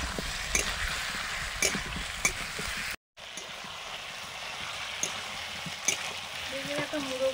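Eggplant frying in a pan with salt, cooked for a curry with rohu fish head and cabbage: a steady close sizzle with occasional stirring clinks, briefly cut off once.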